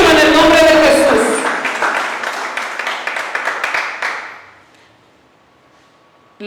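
A church congregation bursts into loud, dense applause that thins into scattered claps over several seconds and fades out, leaving near silence.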